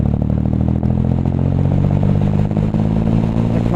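A motorcycle accelerates in top gear from about 30 mph, its engine holding a loud, steady, throbbing drone that swells slightly as the throttle opens, heard close from the rider's position.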